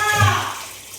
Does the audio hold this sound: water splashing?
yes